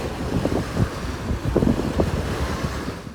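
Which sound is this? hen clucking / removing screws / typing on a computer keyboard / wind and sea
wind and sea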